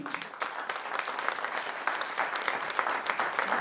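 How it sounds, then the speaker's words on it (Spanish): A concert audience applauds a Colombian soprano, a steady wash of many hands clapping at moderate volume through the whole clip. "Y un aplauso para ella."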